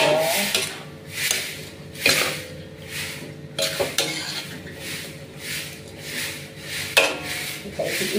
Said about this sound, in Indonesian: Kita aduk-aduk balik ya.